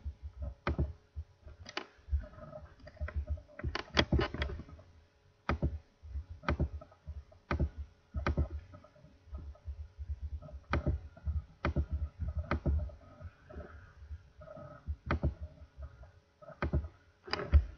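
Computer mouse clicking while editing in Photoshop, sharp irregular clicks at close range, some in quick bursts and others spaced a second or more apart, quiet and alone with no voice.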